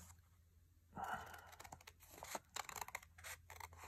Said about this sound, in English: you're going to cut the center part of the paper and stop where the cross is.